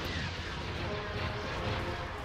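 Dense, continuous battle rumble from space combat in the Star Wars Empire at War remake: a loud, broad roar of explosions and heavy cannon fire with no clean single blast standing out.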